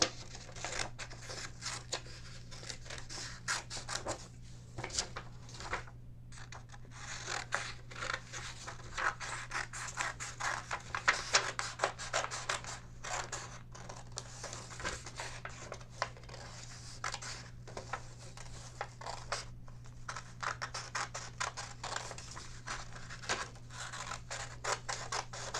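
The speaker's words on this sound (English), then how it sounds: "I'm going to cut my red fish out now." Scissors cut a red paper fish out of a children's craft sheet, a quiet run of rapid snips, rustles and paper scratches close by, with a low steady hum underneath and no talk.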